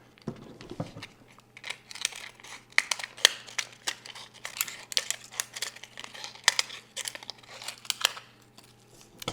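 A discarded plastic soda or water bottle is cut near the top with scissors or a blade, giving a long run of sharp crinkling snips and crackles, close and uneven, with no talking.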